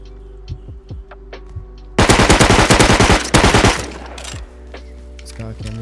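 Automatic gunfire in the survival game Rust: a loud, fast burst of rapid shots lasting about two seconds, followed by a quieter short burst, set against a low humming background.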